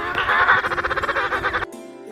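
A penguin calls loudly and close with a single braying, pulsing cry of rapid nasal honks lasting under two seconds, then cuts off abruptly into quiet.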